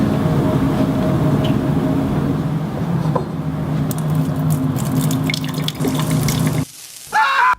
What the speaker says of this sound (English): Just do your job and help me pour this out.